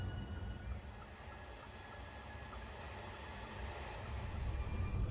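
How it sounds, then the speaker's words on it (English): A Chinese high-speed bullet train accelerates in the Train Simulator game, a quiet, steady low rumble and rolling hum that slowly grows a little louder toward the end. "with the throttle placed in the forward position, the train will accelerate"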